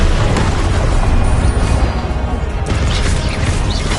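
Confringo spell explosions from Hogwarts Legacy make a loud, continuous rumbling blast with crackling debris, dense and close throughout, and the roar keeps swelling without a break.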